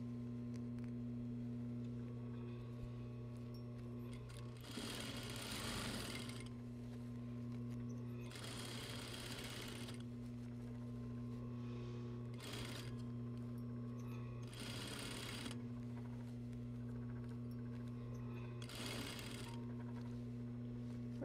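A sewing machine stitching seams over darts in a basic apparel project, running in several short bursts of steady mechanical whirring over a constant low hum, with pauses between runs and no talking.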